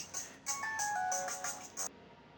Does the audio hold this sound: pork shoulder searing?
no